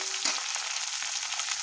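Potatoes, eggplant and beans fry in hot oil in a pan, giving a steady close sizzle with faint crackles and a brief stirring clatter near the start, with no voices.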